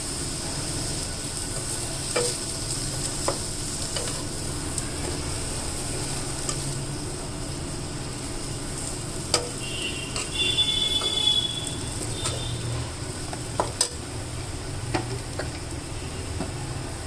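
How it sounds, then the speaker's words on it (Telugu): Chili powder frying in hot oil for a tamarind-jaggery eggplant curry, a steady soft sizzle with scattered ticks and scrapes of stirring, moderately close and without talk. "కారం కూడా కాస్త నూనెలో వేగనిద్దాం."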